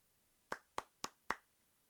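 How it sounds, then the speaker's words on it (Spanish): Four crisp, evenly spaced hand claps, fairly quiet and close, ring out alone in a short burst. "Vamos a aplaudir"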